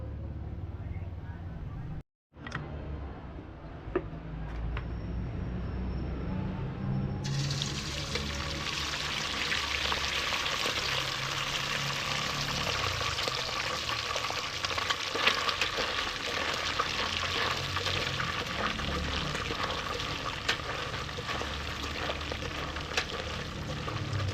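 Chopped octopus frying in hot cooking oil, a steady broad sizzle that jumps louder after a few seconds and holds dense and close, with faint voices underneath.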